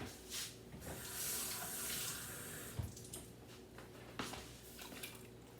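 Tap water runs steadily into a small can, a soft continuous hiss and splash with a few faint clinks and knocks partway through.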